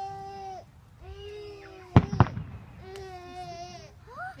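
Two quick, loud firework bangs burst out in a Philippine backyard, nearly back to back, while a baby wails and cries before and after.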